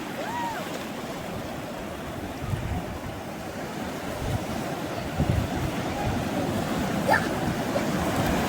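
Sea waves roll onto the wide shore at Ramapuram beach near Chirala, a steady broadband wash of surf with wind buffeting the microphone and small swells in level throughout.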